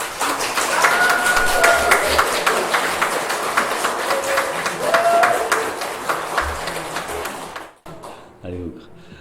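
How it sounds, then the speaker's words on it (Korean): A church congregation applauds in welcome during a Sunday mission service, dense clapping with shouts mixed in for several seconds before it breaks off and a voice begins speaking. "여러분 올라오시면 할렐루야와 큰 박수로 환영하시기 바랍니다"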